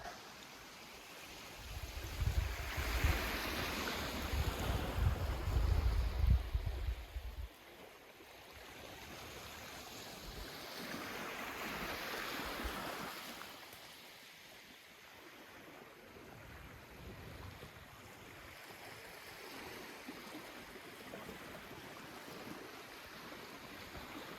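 Ocean surf washing onto the shore at Rennell Sound, Haida Gwaii, at sunset, a heavy rumbling wave surge early on, then softer swells receding into a steady wash.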